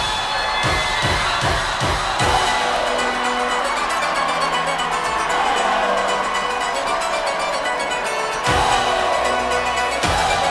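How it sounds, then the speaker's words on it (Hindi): Loud crowd cheering and applause from an audience at a nursery school annual day performance by young children, a continuous roar of clapping and shouts with music-like tones underneath, swelling again near the end. "तो जोरदार तालियां होनी चाहिए"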